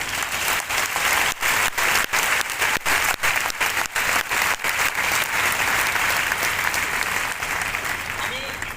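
An audience at a training event bursts into big, sustained applause, dense rapid clapping from many hands that stays loud and even throughout, briefly punctuated by short dips.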